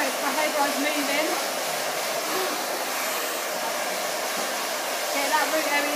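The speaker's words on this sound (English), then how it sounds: "So you'll notice my hairdryer's moving." A hair dryer blowing continuously while drying hair from the roots, a steady close airy whoosh that holds level throughout with no talk.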